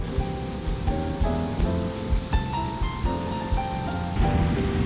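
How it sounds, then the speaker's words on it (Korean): Waterfall in Baegundong valley, a steady broadband rush of falling water, fairly loud and close, continuous throughout with occasional faint knocks and rustles over it. "여기도 폭포."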